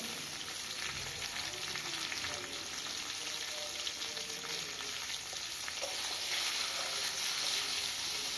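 Mixed vegetables for Bengali shukto sizzle and fry steadily in a pan with salt, a continuous close crackling hiss with faint stirring scrapes, no talking.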